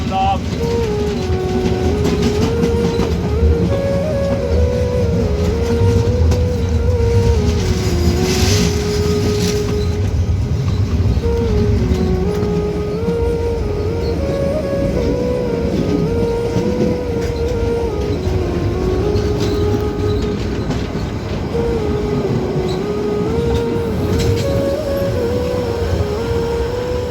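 An HSB Harz narrow-gauge train running through the Harz Mountains near Wernigerode, Germany, with a steady loud rumble and clatter of wheels on rails and a wavering mechanical whine, heard continuously from on board.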